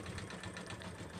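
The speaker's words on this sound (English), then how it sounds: "I have not sped up the video in case you were curious about seeing how the machine runs at its normal speed." An embroidery sewing machine runs steadily at medium speed, a dense continuous mechanical whir with a rapid regular stitching pulse, close and loud throughout.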